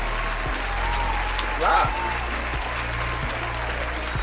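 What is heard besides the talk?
round of applause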